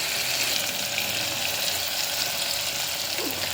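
Tomato and onion frying in oil for a mutton curry, a steady dense sizzle lasting throughout, close and fairly loud, with no talking.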